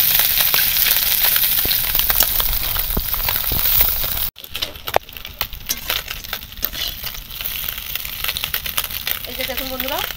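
Small mourala fish fry lightly in oil in a wok, with a continuous crackling sizzle that briefly cuts out midway and then resumes among scattered clatters of handling.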